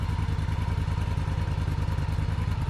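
Yamaha Virago motorcycle with a gutted and baffled exhaust idling up close, a steady rapid low-pitched thumping pulse with mechanical clatter, loud and unbroken with no talking.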